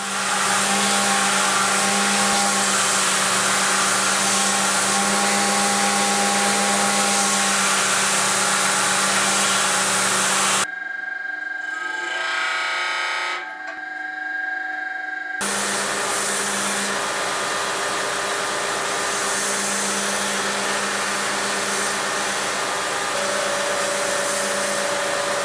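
A Damascus steel knife blade being shaped and smoothed with a loud, steady whirring power tool, running continuously at close range apart from a brief drop in the middle before resuming.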